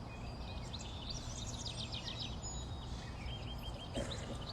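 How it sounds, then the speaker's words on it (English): Birds chirping outdoors on a morning walk, rapid repeated twittering notes over steady background noise, moderately distant and fairly faint. "Listen to the birds."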